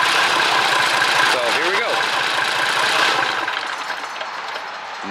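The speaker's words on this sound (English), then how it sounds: "And so you get another start and another turn off." A Mercedes Unimog 416 diesel engine runs at a steady idle, loud and close, with a low knocking rumble before it settles and fades slightly toward the end as someone speaks briefly over it.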